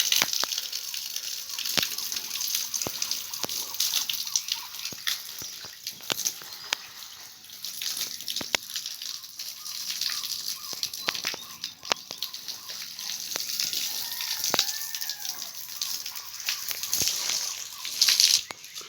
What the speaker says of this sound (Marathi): आता इकडे पाणी मारत आहेत